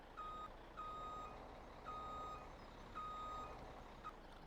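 A vehicle's reversing alarm in Farming Simulator 17: steady, evenly spaced beeps repeat about four times over a low, faint engine hum.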